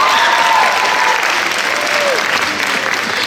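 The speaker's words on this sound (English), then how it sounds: "You're supposed to clap." An audience claps in a dense, steady round of applause that fills the room, loud and close, gradually easing slightly without dying out.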